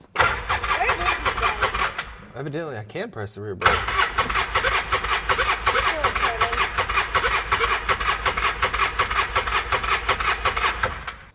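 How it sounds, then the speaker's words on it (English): A small ATV engine cranks and runs roughly, cuts out briefly, then catches again and keeps running at a steady idle, with someone talking over it. "we're gonna try to start this again."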